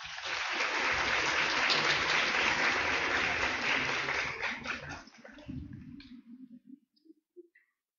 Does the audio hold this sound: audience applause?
yes